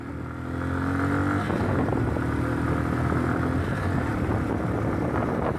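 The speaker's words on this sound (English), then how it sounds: "the bike's acceleration is phenomenal" A Yamaha FZ16 motorcycle accelerates on the road, its engine note rising into a steady loud drone that holds, with a continuous rush of wind alongside.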